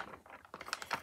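Fingertip tapping on a small hardened cone of Model Magic air dry clay, a quick run of light, close clicking taps speeding up over about a second.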